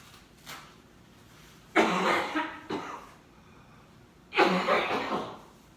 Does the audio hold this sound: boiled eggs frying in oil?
no